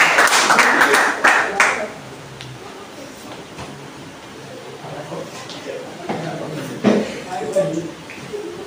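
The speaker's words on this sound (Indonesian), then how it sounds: "Beri tepuk tangan pada" Brief burst of audience clapping at a class 9 school graduation, loud at first then fading within two seconds, followed by murmuring voices and room noise with a later small flurry.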